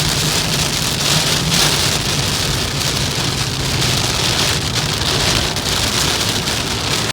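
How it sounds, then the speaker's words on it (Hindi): Heavy monsoon rain pours steadily in Bikaner, a dense continuous hiss of drops hammering surfaces and water, loud and close, with a faint low rumble underneath and no voices. "इतना ज़्यादा मतलब बारिश आई है ना बीकानेर में।"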